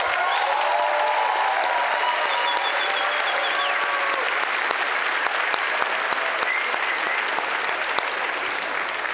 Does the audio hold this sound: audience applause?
yes